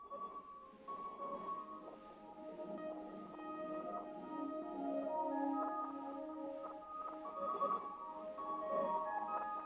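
Processed riser built from mouth noise with stacked effects, a faint, tonal, shimmering wash that slowly swells and thickens over several seconds, heard alone without talk.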